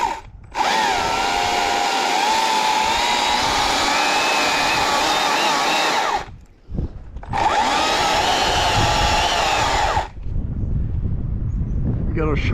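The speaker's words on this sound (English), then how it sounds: "We got a sharp chainsaw," STIHL MSA300C battery chainsaw, its chain not especially sharp, cutting wood in two long, loud, steady whining bursts with a short drop between them, then quieter rustling and handling at the end.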